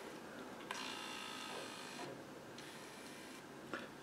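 A small motor whirs as it moves the tail of a Pleo robot dinosaur, a faint, close mechanical hum rising and falling in a few short runs with light clicks.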